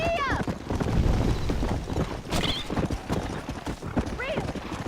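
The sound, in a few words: horse galloping hooves in Red Dead Redemption video game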